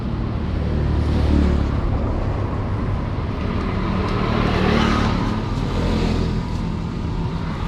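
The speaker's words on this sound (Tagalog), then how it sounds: "dumadaan ding motor dito" A motorcycle passes along the C-6 road amid steady, loud roadside traffic rumble, its engine swelling and fading within a continuous roar of passing vehicles and wind.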